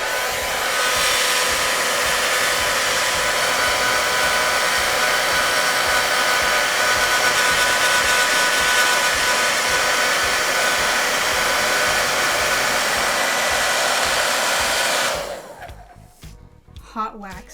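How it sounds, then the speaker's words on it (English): A hair dryer fitted with a diffuser blows steadily and loudly for about fifteen seconds while melting crayon wax for rainbow crayon art, then cuts off abruptly, leaving a few faint clicks and rustles. "you need the diffuser for the hairdryer"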